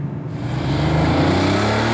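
A Porsche 964 Carrera 4 pulls away close by, its engine note swelling into a loud, strong rumbling growl that holds steady as the car drives off, with no voices.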